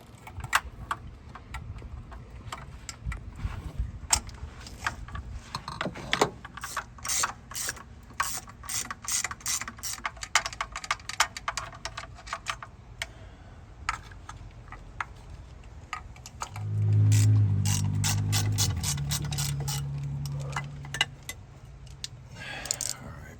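A ratchet removes obscured bolts on the TPI engine of a 1991 Camaro Z28, giving bursts of close, crisp pawl clicking in uneven runs, with metallic handling clunks and a short low rumble near the end.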